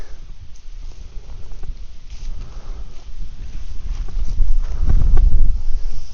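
Strong wind buffets the microphone by a fishing lake with a steady low rumble, building to louder gusts toward the end; no voices.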